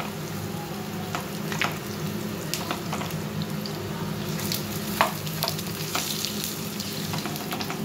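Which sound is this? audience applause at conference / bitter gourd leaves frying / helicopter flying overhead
bitter gourd leaves frying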